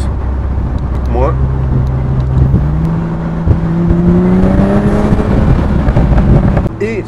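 A Morgan Plus Six engine running steadily inside the car, its tone rising and dropping as the gearbox shifts with the paddles, with a clear gear change partway through and a continuous road and cabin drone underneath.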